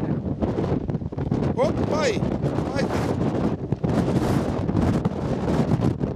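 Strong gusting wind buffets the microphone in a high mountain village on Amorgos, a loud, continuous roar under several people talking and calling out.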